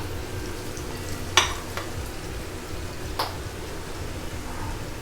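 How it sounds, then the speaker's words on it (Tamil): Paneer frying in hot oil gives a steady, soft sizzle and crackle, with a couple of sharp clinks from a utensil against the pan. "பன்னீர் எல்லாம் நல்லா பொரிச்சு எடுத்துட்டாச்சு"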